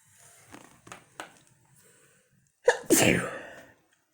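A single loud, sharp sneeze bursts out near the end, preceded by quiet breathy sounds and a few faint taps.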